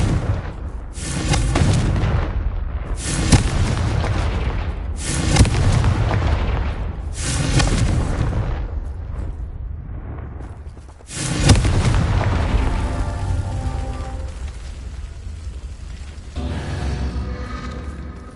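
Confringo blasting curse explosions in the Hogwarts Legacy video game, a series of loud, deep booms in quick succession, each followed by a long rumbling decay, with a heavier blast near the middle and a lingering roar at the end.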